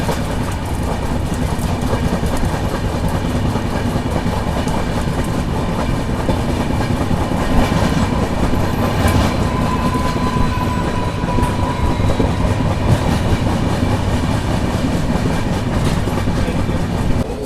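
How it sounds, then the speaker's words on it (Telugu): Visakha Express passenger train rolling on rails between Sattenapalli and Guntur, a steady loud broadband rumble of wheels and carriages with faint rhythmic clatter, continuous throughout. "ఇక్కడ ట్రైన్ వచ్చేసి సత్తెనపల్లి నుంచి అయితే బయలుదేరిపోయింది"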